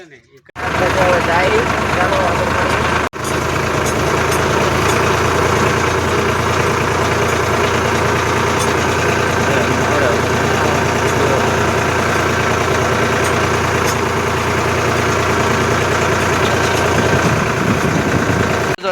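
A tractor engine idles loud and steady for the whole stretch at a construction site, loaded with cement, a constant low rumble with faint mechanical rattle. Voices are barely audible beneath it.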